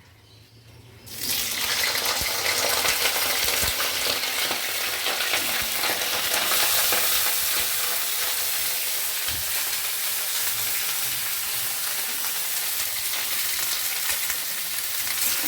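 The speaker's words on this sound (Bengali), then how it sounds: "এবার সবজিগুলো একটু ভেজে নেবো, আমি একসাথেই ভেজে নেবো।" Vegetables frying together in a kadai for a vegetarian lunch, a loud steady sizzle that starts abruptly after a second of quiet and continues unbroken, with occasional stirring scrapes.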